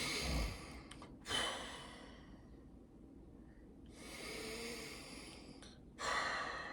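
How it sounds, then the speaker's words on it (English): Slow, deep breaths during a meditation practice, each long airy inhale and exhale close and clearly audible, separated by quiet pauses, with no talking. "So you do a meditation practice. You breathe."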